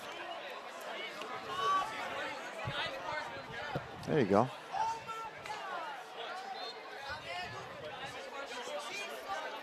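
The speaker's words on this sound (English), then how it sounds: "A great crowd here at Darien Stadium Field." Steady crowd murmur fills the stands at Darien Stadium Field during a night varsity football game between Darien and Fairfield Ludlowe, a diffuse babble of distant voices with a brief nearby remark.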